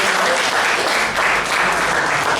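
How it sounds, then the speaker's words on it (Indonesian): A workshop audience at a Topeng Lango Wedana festival claps in sustained, dense applause, a steady wash of many hands close by with no break. "tepuk tangan sekali lagi"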